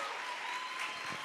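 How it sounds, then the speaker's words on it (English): An audience at a critical dialogues event applauds the group Harmony Hive, a brief, steady wash of many hands clapping at once, loud and uninterrupted, with no talking. "Can you please just give Harmony Hive a round of applause?"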